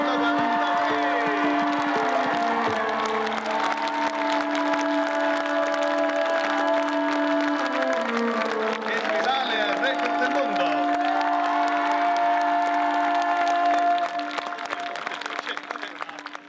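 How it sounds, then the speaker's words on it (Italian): An evening event crowd applauds and cheers at length, steady massed clapping with whoops and shouts ringing in an echoing space while a musical drone sounds beneath, fading near the end. "Facciamo un applauso"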